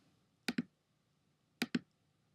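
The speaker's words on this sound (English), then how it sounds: "So all I'm doing is typing it in" Two pairs of quick, close keystrokes on a computer keyboard sound in a quiet room, each pair a sharp double click with a short pause between the pairs.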